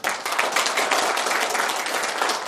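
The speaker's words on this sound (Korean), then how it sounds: "우리 자축의 박수 한번 해주면 어떨까요?" An audience at a Rotary leadership training lecture breaks into dense, steady clapping that starts abruptly and holds at even volume for a couple of seconds.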